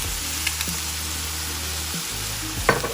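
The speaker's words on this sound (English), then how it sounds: "I'm gonna take the soy sauce and put just a little bit of soy sauce on top." Breakfast fried rice frying in a pan gives a steady sizzle that swells as soy sauce hits it, with a few clicks and bumps from a utensil and a louder burst near the end.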